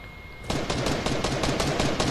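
Rapid automatic gunfire from the Fortnite video game bursts in after a short quiet lead-in, a dense, loud rattle of shots sustained to the end.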